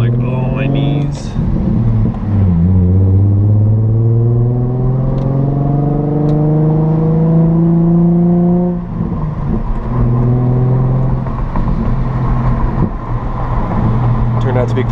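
A Nissan 350Z Nismo pulls away from a stoplight and climbs through the gears, its engine note rising in loud, steady sweeps with brief dips at each shift, close and dominant throughout.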